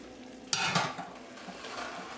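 Pork chops fry in a covered pan, a steady sizzle broken by a sharp clack of the lid or utensil and a brief stirring scrape.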